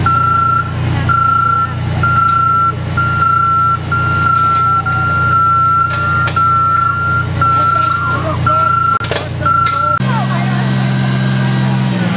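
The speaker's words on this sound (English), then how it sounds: "Oh, there goes the machine. There goes the beeping." A machine at a block party gives steady, evenly spaced reversing beeps over a continuous engine rumble and background voices; the beeping stops near the end as the engine note shifts.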